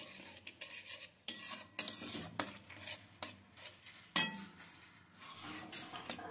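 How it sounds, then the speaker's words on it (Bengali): A spoon stirs ground spice paste and water together in a pan for a green pea dish: soft, irregular stirring strokes with light metallic clinks and a faint sizzle, quiet and close. "জলের সঙ্গে মশলাটাকে খুব ভালো করে মিশিয়ে নিচ্ছি"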